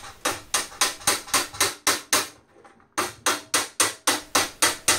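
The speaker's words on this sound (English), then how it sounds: "I'll just work my way up and down the weld with a hammer and dolly" Rapid, regular metallic hammer-and-dolly blows on a steel weld of a Land Rover ring out close by, a steady series of sharp strikes with one brief pause before the rhythm resumes.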